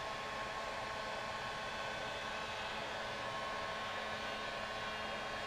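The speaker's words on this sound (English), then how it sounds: "A little bit easier with the heat gun," A heat gun blows hot air in a continuous, even hiss and whir, close and steady throughout with no talking.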